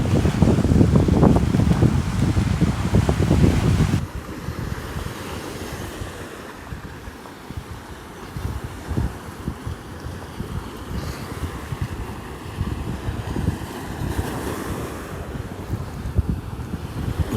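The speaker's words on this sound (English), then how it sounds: "But first I'm gonna show you some waves." Ocean surf at Pawleys Island rolling and washing in under steady wind, loud and rough for the first few seconds, then a quieter ongoing wash of waves.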